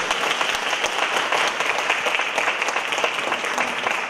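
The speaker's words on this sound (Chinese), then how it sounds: "有没有点掌声？" Audience applause rings out at a Yu opera performance, sustained clapping from a crowd that keeps steady and fairly distant for the whole span.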